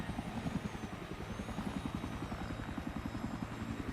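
Helicopter in the video game Battlefield 3, with a steady rapid rotor chop and engine drone running loud and continuous throughout, no talk over it.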